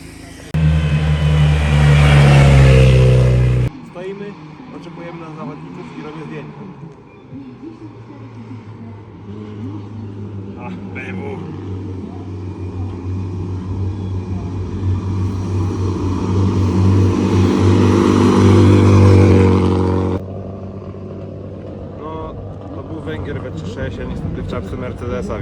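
Race car engines at the 16th Limanowa hill climb race, a loud, sustained motor drone that swells and fades as cars pass, with a person talking over it throughout.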